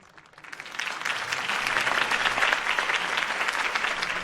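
Steady applause from a large crowd in a Batman video game swells within the first second and keeps going, dense and even, with no voices.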